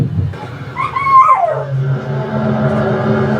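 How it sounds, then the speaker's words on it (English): Dogs in a home in Manitoba, Canada, react to a loud outside disturbance with a short, close whining, yelping cry that rises and falls in pitch, above a low steady background hum. "It's even got my dogs barking."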